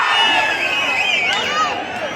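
A large crowd of farmers at a bull pulling contest shouts and cheers continuously, loud and close, with whoops rising over a dense wall of voices.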